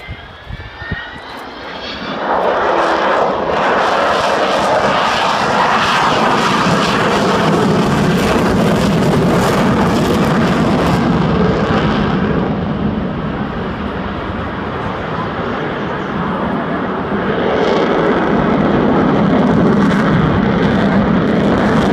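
Avro Vulcan bomber jet engines howling loudly on takeoff at an air show, a sustained roaring blast with a rising whine that holds steady for the full duration and swells again near the end.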